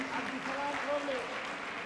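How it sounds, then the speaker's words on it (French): A crowd applauds steadily at a graduation ceremony while a voice speaks over the clapping. "je pense que vous pouvez les applaudir"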